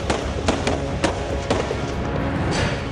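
Rapid sharp bangs crack out in quick succession, roughly two per second, over a constant rough background noise.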